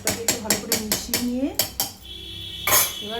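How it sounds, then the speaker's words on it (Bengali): A pressure cooker lid is shut over a homemade mutton and potato biryani. A quick run of about seven sharp metallic clanks and clinks sounds close by, followed by a short scraping hiss near the end. "এবার প্রেসার কুকারের ঢাকনাটা বন্ধ করে দেবো।"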